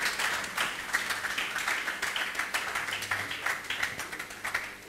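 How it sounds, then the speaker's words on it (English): An audience at an electricity-cost policy dialogue applauds its conference panelists, a dense, sustained patter of many hands clapping at moderate volume with no speech. "Well, a round of applause for our panelists"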